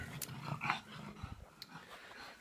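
A dog growls and makes short grumbling noises close by, in brief bursts with quiet gaps between them.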